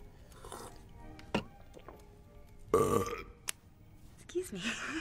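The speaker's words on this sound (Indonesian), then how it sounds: "suka bersendawa" Several burps from a husband at home erupt between stretches of conversation, one loud and drawn out near the middle with shorter belches around it, close to the mic.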